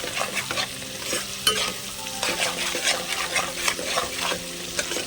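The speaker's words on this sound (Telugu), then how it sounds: "కూర అడుగంటకుండా కొంచెం తిప్పడం." Cabbage and potato curry stirred in a pan to stop it sticking, with repeated scraping spatula strokes and clinks over a steady sizzle, close and moderately loud, no speech.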